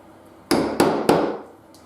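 Three sharp hammer blows strike a hole punch through a canvas and leather bag, close and loud, each with a short ringing decay, spaced about a third of a second apart.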